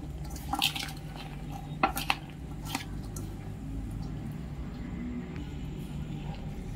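Red chilli sauce, tamarind chutney and Schezwan sauce are mixed in a bowl for corn chaat, with soft squelching stirs and a few spoon clinks early on, then a faint, steady background.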